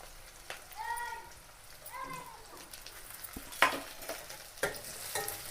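Curry leaves drop into hot oil in a home kitchen while jowar and chickpea gudalu are prepared, giving a moderate crackling sizzle with a few sharp pops and a stirring clatter near the end.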